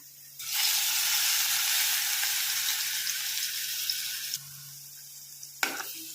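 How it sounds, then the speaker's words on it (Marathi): Ground spice paste sizzles loudly in hot oil for shark (mushi) kheema, a steady close frying hiss that cuts off abruptly, followed by a brief clatter. "वाटण छान परतून घ्या तेलामध्ये फ्राय करून घ्या"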